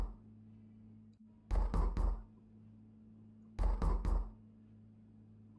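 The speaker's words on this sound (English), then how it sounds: "Who is knocking so loud?" Loud knocking on a door in the video game OMORI: two bursts of three heavy, close raps each, separated by a pause over a low steady hum, with no talking.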